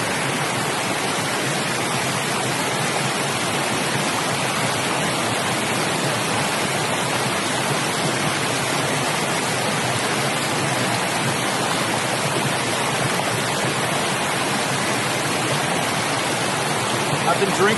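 Wallace Falls pours down in a loud, constant broadband rush, a dense unbroken roar of falling water that never changes over the whole stretch.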